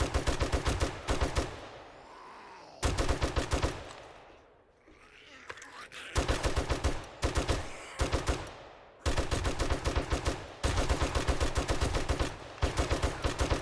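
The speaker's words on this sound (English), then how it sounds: "Shoot him some more." Rapid bursts of automatic gunfire hitting a zombie in the video game 7 Days to Die, loud close volleys separated by short pauses, with voices talking during the quieter gaps.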